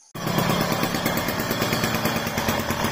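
A Motobécane moped with a newly fitted engine starts up and runs, giving a loud, close, rapid rattling two-stroke putter that holds steady from just after the start.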